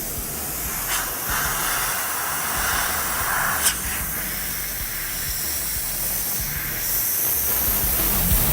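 Airbrush spraying paint to lay down flame designs, a steady close hiss with a few brief stronger puffs and no voices.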